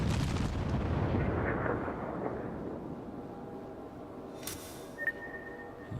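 Naval gun salvo from a Cleveland-class cruiser's forward turrets in World of Warships, a loud booming blast fading into a long rumbling decay, followed by a faint later pop and whistle.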